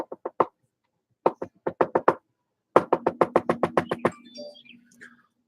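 A voice imitates a woodpecker with rapid clicking taps in short bursts, then a longer run of about a dozen quick knocks.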